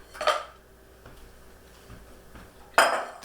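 Dry peas dumped into a metal colander in a home kitchen give two short, loud clattering rattles about two and a half seconds apart, with faint clinks between them and no talk.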